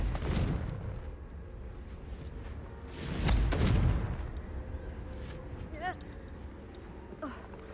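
Magical Confringo fire-blast explosions in Hogwarts Legacy: a short burst near the start and a bigger, longer rumbling boom mid-clip, followed by smaller crackling hits and whooshes over a constant busy game-noise bed.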